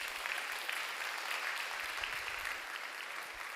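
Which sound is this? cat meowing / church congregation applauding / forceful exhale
church congregation applauding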